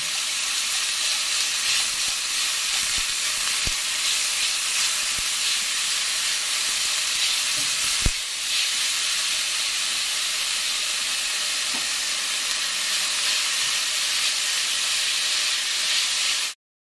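Nutmeg, pepper, Himalayan salt and sugar sauté in a hot pan, giving a steady, loud hiss that runs unbroken from start to finish, with a single sharp tap partway through.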